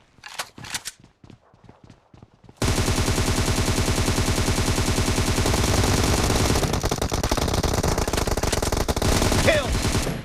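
Assault rifle fire in PUBG Mobile team deathmatch: a few scattered shots, then a long, dense stream of rapid automatic bursts, loud and close, with brief in-game voice callouts.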